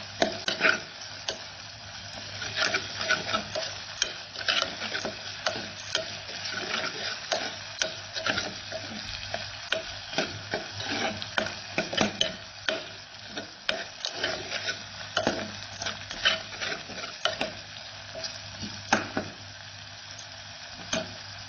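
Potatoes and ginger-garlic paste fry in a pan for a cauliflower and potato dish, a steady close sizzle with frequent scraping and clicking stirs of a spoon against the pan.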